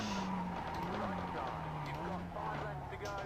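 Engine drone of a Mazda MX-5 race car in iRacing at Charlotte, a steady tone dipping as it brakes hard with faint tire scrub, continuous under nearby commentary.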